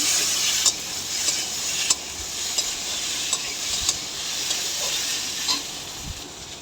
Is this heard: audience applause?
no